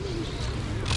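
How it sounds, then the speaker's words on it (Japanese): Parakeets call from the trees in a Barcelona street, one brief, close bird call rising over a busy outdoor hum while a voice talks nearby. "木の上にいるのがね全部インコなの。"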